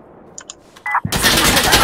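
Gunfire in Insurgency Sandstorm: a few faint clicks and shots, then a sudden loud burst of dense, continuous rapid fire filling the rest of the moment.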